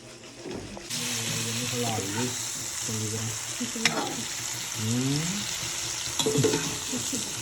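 Eggplant sizzles and fries in a kadai, with stirring scrapes and clatters recurring amid a continuous hiss of hot oil, and a voice talking intermittently over the cooking.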